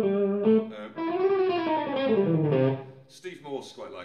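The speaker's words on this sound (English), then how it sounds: "You might use a series of chromatic notes to connect some pentatonic notes." An electric guitar plays a chromatic lick that links pentatonic notes, with bent and sliding sustained notes through an effects unit with mild distortion, clear and upfront.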